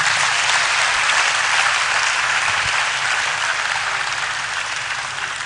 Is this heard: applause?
yes